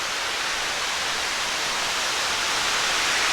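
Steady broadband rush of a forest waterfall at Ohiopyle State Park, continuous and even with no breaks.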